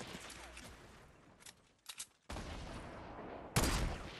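Pistol gunfire in a Fortnite match, a few sharp shots from a player on a hilltop: brief cracks around the middle, then two loud, dense bursts of firing that hold on, one of them sharp and close.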